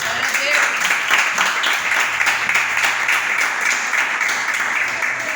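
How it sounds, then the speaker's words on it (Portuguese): Church congregation applauding during a Portuguese-language service, a steady wash of many hands clapping for several seconds with a few voices calling out over it. "Aplaude o Senhor Jesus."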